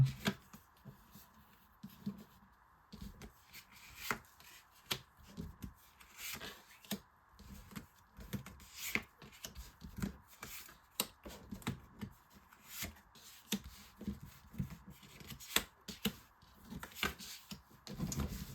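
Tarot cards shuffled and drawn by hand for a nine-card spread, giving a steady run of soft riffling, slapping and flicking bursts at close range with no voice over them.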